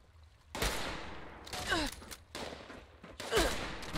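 Gunfire from the video game Fallout 76 comes as four loud, sharp bursts, each followed by a short rumbling tail, with a brief voice-like sound mixed in.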